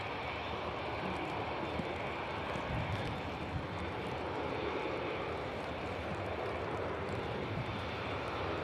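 Saudia airliner at Manchester Airport, a steady broadband jet roar that stays continuous and fairly distant throughout, with no talk over it.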